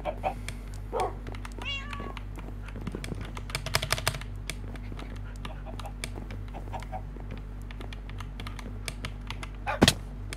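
Computer keyboard typing in rapid bursts of clicky keystrokes across the clip, with a cat meowing now and then over a steady background hum while a Minecraft game plays.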